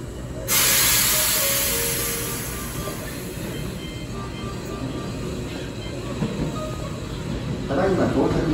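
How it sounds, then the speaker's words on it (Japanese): A Hankyu Kobe Line electric train bound for Kobe-Sannomiya pulls into a station with a loud rush of hissing air and rumbling wheels, easing to a steady hum, with a brief brake hiss at the end. "まもなく1号線に神戸三宮方面へ向かう電車が到着します。"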